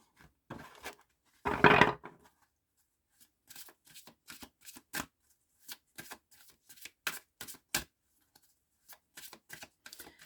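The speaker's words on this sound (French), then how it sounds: "je vais faire un brassage pour le choix 2, la plume fuchsia" Oracle cards are shuffled close by in crisp, quick riffles. A loud burst of shuffling comes first, then a run of short, sharp flicks and taps with brief pauses between them, with no voice.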